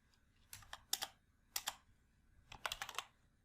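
Quick bursts of keystrokes on a computer keyboard, entering a spreadsheet formula: soft, close clicks in three short clusters separated by brief pauses, with no voices.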